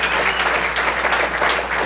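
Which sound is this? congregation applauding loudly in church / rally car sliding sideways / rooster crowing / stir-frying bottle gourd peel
congregation applauding loudly in church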